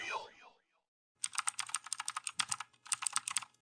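Rapid clattering of a computer keyboard being typed on in two bursts, close and crisp with a short pause between, after a brief faint tonal sound at the start.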